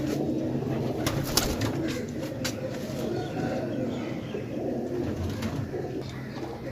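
Pigeons coo softly in a steady, low murmur, with faint background clatter and a couple of sharp clicks, fairly quiet overall and without talk.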